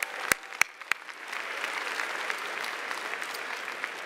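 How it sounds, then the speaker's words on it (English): An audience at a Republican party convention applauds. A few sharp, close claps open the sound before it spreads into a steady patter of clapping from a large crowd. "So let's give Saul a round of applause for a great job."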